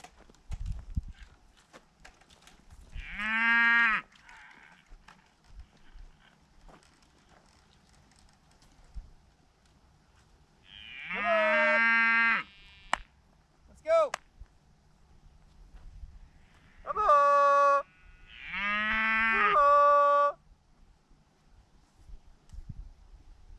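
Cows moo in a field, several long, deep calls spaced apart by quiet stretches, some overlapping in pairs, fairly close over faint background rustle.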